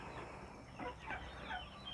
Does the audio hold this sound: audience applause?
no